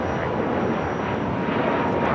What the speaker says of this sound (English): This is Spirit Airlines 3787 taking off to Detroit on the A320neo.